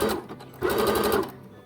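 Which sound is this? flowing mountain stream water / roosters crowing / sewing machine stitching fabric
sewing machine stitching fabric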